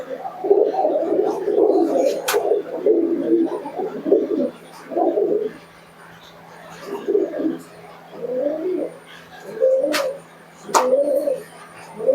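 Giribaz pigeons coo in repeated soft, throaty bursts close by, with brief pauses between calls and a few sharp clicks.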